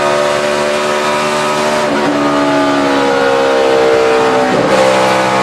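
NASCAR stock cars roaring around Texas Motor Speedway at the 2011 AAA Texas 500, a loud continuous engine drone with two cars sweeping past, their pitch rising and falling, no talk over it.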